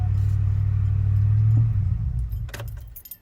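A vehicle engine started with a Hulkman Alpha 85S 2000A jump starter idles with a loud, steady low rumble. It then winds down and falls away, and a brief jangle of keys follows near the end.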